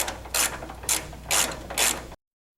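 A ratchet wrench loosens a Mustang sway bar frame mount in four short bursts of rapid clicking, close and distinct, with brief pauses between strokes.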